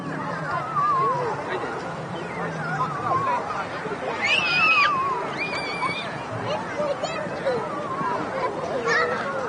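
Honking, goose-like calls at an airport ring out in short bursts over a murmur of background voices and ambient noise.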